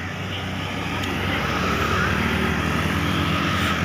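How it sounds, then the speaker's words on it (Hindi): Steady traffic roars past on a busy main road beside a plant nursery farm, a continuous broadband rumble of passing vehicles with no pauses. "यहाँ पे मेन रोड है तो ट्रैफिक बहुत ज़्यादा गुजरती है तो शोर बहुत ज़्यादा आता है"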